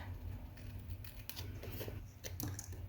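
Scissors snip through paper while trimming out typewriter-shaped card pieces, giving a series of close, crisp cutting clicks at an uneven pace, heard alone.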